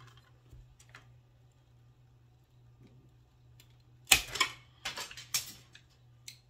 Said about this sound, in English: I'm just using my miter shears